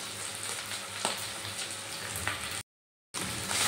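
Ground spices frying in a pan: Kashmiri chili, turmeric and coriander powder, a close steady sizzle with occasional stirring scrapes, briefly cut to silence before the sizzle resumes.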